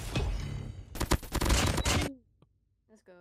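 Rapid bursts of Krig rifle gunfire from Call of Duty Mobile crackle loudly for about two seconds, then cut to near silence with a faint game sound at the end.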